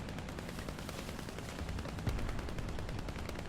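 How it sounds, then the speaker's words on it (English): Anti-aircraft gun firing in War Thunder, a rapid stream of distant, fairly faint gunfire under constant battlefield background noise, with a slightly louder burst partway through. "I can see it's clearly an anti-aircraft gun on the cap."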